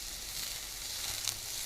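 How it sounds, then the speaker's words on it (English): Vegetables sizzle and are stirred in a hot pan for yachae bokkeum, a steady, fairly faint hiss with a few small crackles near the end. "You're doing a good job stirring over there."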